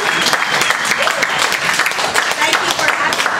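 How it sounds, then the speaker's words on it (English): An audience at a National Finals Rodeo event claps in a loud, sustained round of applause, with voices talking over it. "So I'd like to give a huge round of applause for both of them."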